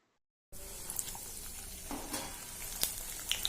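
Chhole curry simmering and sizzling in a pan, a steady close frying hiss with soft bubbling pops and a few brief clinks, starting abruptly after a short silence with no talk.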